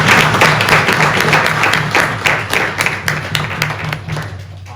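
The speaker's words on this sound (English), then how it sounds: "Can we get a round of applause?" A room of attendees at a panel on trucking and owner-operators gives a loud, sustained round of applause, steady dense clapping with a low hum underneath that gradually thins out toward the end.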